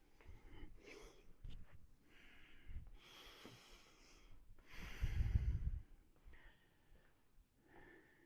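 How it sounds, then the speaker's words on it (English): Heavy, ragged panting and snorting breaths after a twenty-minute mace workout, close and fairly quiet, with a louder burst of exhaling midway. "Not sure how good all this heavy breathing is going to be on video"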